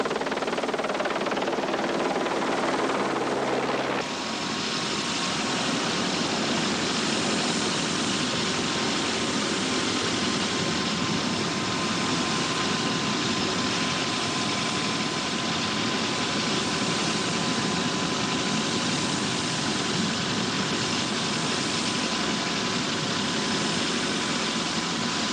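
A helicopter's continuous roaring drone with whirring rotor noise fills the scene as it lands at a party, loud and steady throughout, intensifying after the first few seconds.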